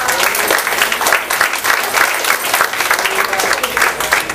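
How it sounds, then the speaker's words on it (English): A high school audience gives loud, energetic applause at a stage hypnosis show, dense rhythmic clapping with some cheering that carries on throughout. "Give him a big round of applause"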